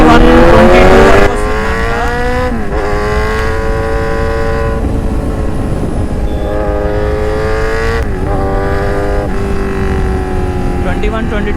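A Kawasaki Z900 motorcycle with a loud aftermarket exhaust rides hard, its engine note climbing through repeated rising revs and dropping at each gear shift, loud and close throughout.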